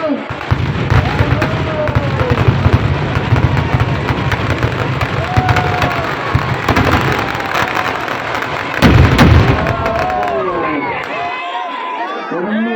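Repeated loud blasts and crackling bangs, like explosions or firecrackers, over a noisy crowd with shouting voices throughout.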